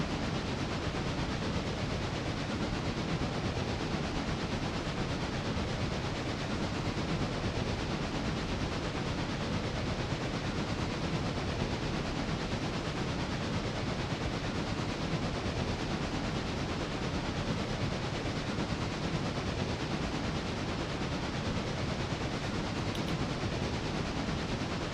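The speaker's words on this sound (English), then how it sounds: "Yeah, that is a massive train." A massive train rolls past close by, a dense, steady roar of wheels and cars that holds at full loudness for the whole stretch without pause.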